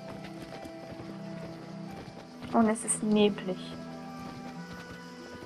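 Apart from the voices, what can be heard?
horse hooves clip-clop in video game Abenteuer auf dem Reiterhof 6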